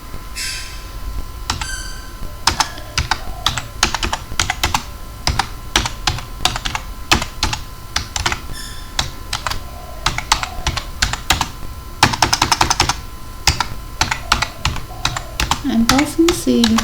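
Rapid, steady keystrokes on a computer keyboard while writing UART data-transmission code for an Arm Cortex M4, clattering closely and continuously with brief bursts of faster typing and a faint voice near the end.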